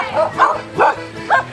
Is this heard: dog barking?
yes